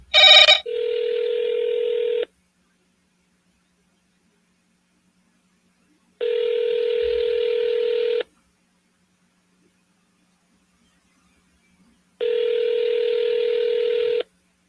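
Calling sellers on a telephone: a short burst of dialed keypad tones, then three long, even ringback tones separated by about four seconds of silence, clear and close, with no talking.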